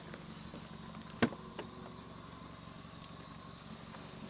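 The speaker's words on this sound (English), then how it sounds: "So with the engine running, you have to make sure the engine is running first" A Fiat Punto engine idles with a blowing exhaust, a low steady rumble close by, broken once by a brief sharp click.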